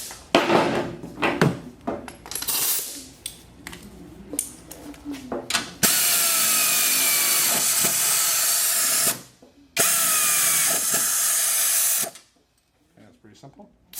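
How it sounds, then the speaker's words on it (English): Air impact wrench snugging the rear sway bar bolts on a MINI Cooper: two loud, sustained bursts of whirring hammering, the first about three and a half seconds long, then a shorter one, after some clinking handling of tools and parts. "we'll go ahead and use our air tool to snug those down again"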